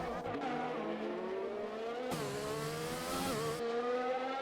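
A race car spinning out in the racing video game Breakout Racing League, a high engine whine dropping and rising as the car slides, with tire squeal and a sudden bright burst of noise mid-spin.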